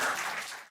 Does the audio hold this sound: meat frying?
no